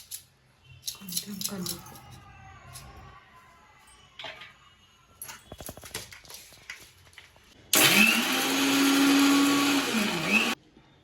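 A mixer grinder whirs loudly for about three seconds near the end, grinding green chillies, oil and cumin into a paste, after scattered handling sounds and a voice speaking earlier.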